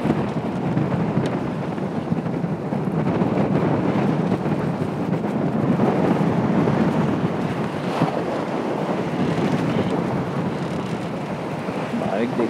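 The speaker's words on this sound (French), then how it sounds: "On a 20 nœuds de vent là actuellement." Strong wind of about 20 knots roars and buffets the microphone while rough seas churn and slap around a moving boat off Brittany, a constant rough rumble throughout.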